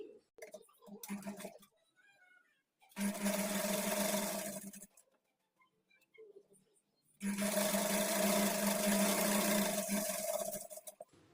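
A sewing machine runs in two long, steady bursts, stitching the hem of a kurti sleeve. The whirring hum is close and loud, with quiet pauses and brief handling between runs.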